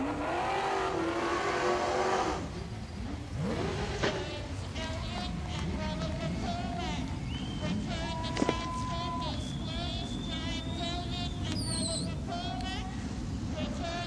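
Race cars circling the Gympie Speedway track in an AMCA Nationals Queensland title final, engines droning and rising in pitch as they pass, with an announcer talking over the steady motor noise.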